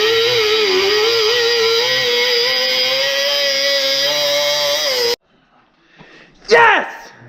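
A chainsaw-like power tool cuts steadily and loudly through a metal breaker bar during a Nissan 350Z clutch and flywheel swap, then stops abruptly, after which a voice calls out briefly.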